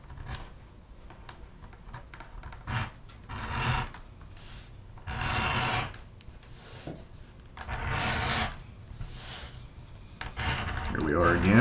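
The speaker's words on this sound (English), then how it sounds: "You're not going to burnish that spot very easily." A leather belt edge is burnished by hand, giving quiet repeated rubbing strokes in uneven bursts, close and faint.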